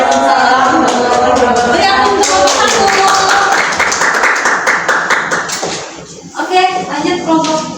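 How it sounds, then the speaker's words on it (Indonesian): A classroom of students claps for the first group after their presentation, a dense burst of quick hand claps that thins into scattered claps, with children's voices chattering over the end. "Beri aplaus untuk kelompok 1."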